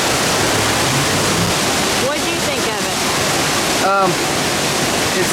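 A large waterfall near Highlands, North Carolina roars in a dense, steady rush of falling water, heard up close from behind the falls, with a brief voice speaking over it.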